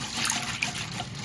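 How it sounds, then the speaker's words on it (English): Tap water runs steadily over beans being rinsed in a home kitchen, a continuous close trickle and splash with no talk. "So I'm going to rinse this off a couple of times and then get started with cooking it."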